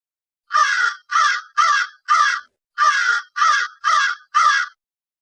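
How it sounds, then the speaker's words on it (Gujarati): A crow caws eight times in two even groups of four, loud and close, with short gaps between calls and no other sound. "કાગડો બોલે,"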